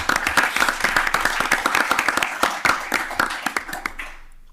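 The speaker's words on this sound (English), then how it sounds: "Let's give one round of applause to all of those individuals." Audience clapping for retiring public works staff at a city meeting, a loose group of sharp individual claps at a fairly close, steady pace, thinning out and stopping near the end.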